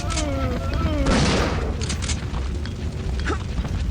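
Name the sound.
gunshots in video game Resident Evil 3 Nemesis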